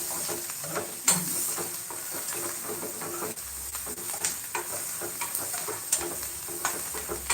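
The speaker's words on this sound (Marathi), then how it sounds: "मी तर कांद्याची फोडणी देऊन करत आहे" Onion tempering fries and is stirred in a hot kadhai with mustard seeds for an okra curry, giving a steady close sizzle broken by frequent scraping and clattering stirring strokes.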